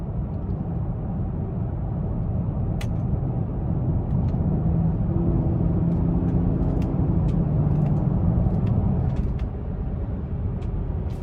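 Steady engine and road rumble from inside a 2017 BMW X5 M Sport driving in manual mode, a loud constant drone with faint clicks over it and no clear shift breaks.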